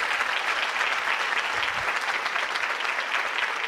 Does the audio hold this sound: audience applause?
yes